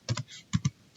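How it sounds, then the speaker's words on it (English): Password being typed on a computer keyboard: two close pairs of crisp key clicks, a short pause, then another pair and a final sharp tap, all near and clear with no voices. "We type the password"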